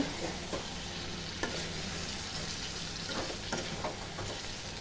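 Brinjal fries in oil in a pan, a quiet, steady sizzle with occasional soft stirring scrapes and clicks over roughly five seconds, no voices.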